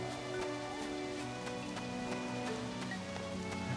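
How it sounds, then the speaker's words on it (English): Steady rain falling in the farming video game Harvest Moon: Animal Parade, a dense, even patter that holds without pause over a looping game music background. "At least not while it's raining."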